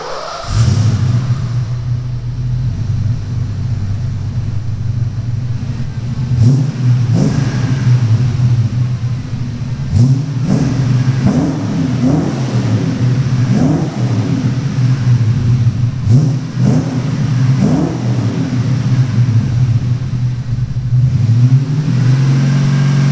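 Ford Foxbody V8 fitted with headers, an H-pipe and a Magnaflow catback exhaust, idling with a deep steady burble and a few sharper throttle blips partway through, loud and close with no talking.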